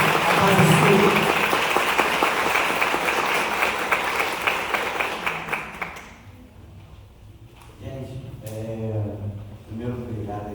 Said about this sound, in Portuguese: eu quero que vocês dêem uma salva de palmas gigante para esse grande homem